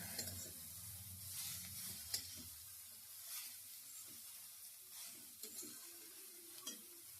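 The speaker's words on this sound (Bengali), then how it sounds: "কেটে রাখা বাঁধাকপি দিয়ে দিচ্ছি ভালো করে নেড়ে নিচ্ছি" Chopped cabbage being stirred in a pan for cabbage paratha, with a steady soft sizzle and a few scraping knocks of the spatula against the pan, close and continuous, no voices.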